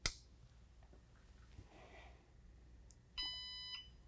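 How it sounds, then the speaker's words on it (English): A Regalia longarm quilting machine powers on with a sharp click, then a bright electronic beep about half a second long in a quiet room. "If you hear that beep, you know everything's communicating."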